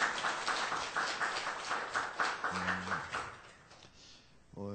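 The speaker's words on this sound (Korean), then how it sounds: "박수 한번 하겠습니다" A church congregation's applause after a Sunday service announcement, forming a moderate patter of clapping that fades out over several seconds, with brief tonal sounds and a voice appearing near the end.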